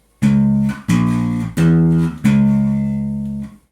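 Metal bass riff played as four sustained, heavily distorted notes in a triplet pattern outlining a diminished chord, each note struck hard and ringing loud and close with brief gaps between.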